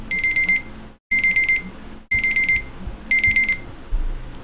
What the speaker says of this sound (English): Sorry, work alarm.